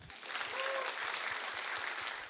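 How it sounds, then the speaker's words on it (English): A comedy club audience claps in a dense, steady burst of applause lasting a couple of seconds, moderately distant. "Big round of applause."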